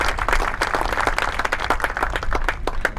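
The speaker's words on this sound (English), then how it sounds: "I think they really deserve a round of applause as well." An outdoor crowd at a Relay for Life opening ceremony breaks into a round of clapping, brisk and moderately loud, individual claps distinct within the steady patter.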